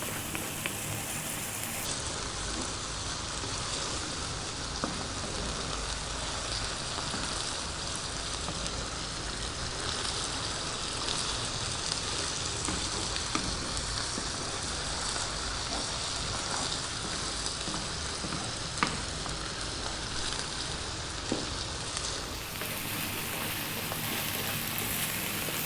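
Lamb mutton fry sizzling hard in a pan over high heat, a steady dense crackle with scattered sharper pops running throughout, loud and close with no talking.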